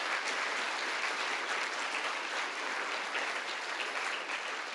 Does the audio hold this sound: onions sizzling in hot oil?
no